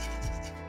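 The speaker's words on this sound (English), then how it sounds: "I'm just going to grate and add to this" Lime zest grated into a bowl for blueberry muffin batter, a steady close rasping scrape that lasts the short moment with one slightly stronger stroke midway.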